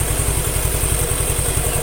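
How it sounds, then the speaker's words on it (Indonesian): A Suzuki Nex II scooter engine with a worn camshaft bearing idles close by, its rough, rapid clattering pulses loud and even throughout. "yang bermasalah itu di bagian laker noken asnya yang suaranya kasar"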